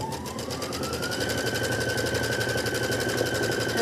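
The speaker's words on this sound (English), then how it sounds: "we are going to go ahead and stitch our placement line for our batting" An embroidery sewing machine stitches a placement line for quilt batting, a fast steady needle chatter with a rising motor whine, close and continuous.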